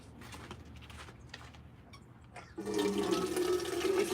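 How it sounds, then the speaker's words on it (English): Rainwater pours from a container over plants, a steady rush of water that starts abruptly after quiet handling noises and continues loud and close to the end. "I'm going to go ahead and put some water in there, water it over."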